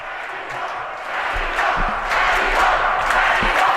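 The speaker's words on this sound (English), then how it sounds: "Dean, are really cheering on the Guilford fans cheering on the squad." Fans at a Guilford varsity ice hockey state tournament game cheer on their team, a sustained arena roar that swells partway through, with scattered shouts and sharp bursts rising above the steady crowd noise.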